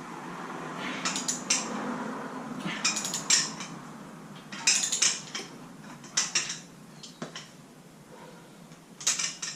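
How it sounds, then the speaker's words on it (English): A wrench with a 14mm 12-point socket cracks loose ARP cylinder head studs on a QR25 Nissan Sentra SE-R Spec V, repeated metallic clinks and ratcheting clicks in spaced bursts, close, no talk. "So I'm going to break all these bolts loose."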